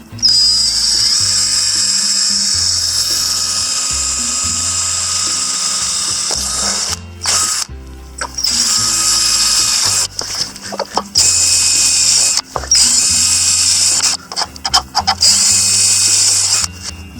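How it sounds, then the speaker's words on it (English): A power drill whines loudly and steadily, biting through corrugated metal sheets in long bursts separated by brief pauses, with some clattering between runs. "the next thing we're going to do is drill our holes in the metal"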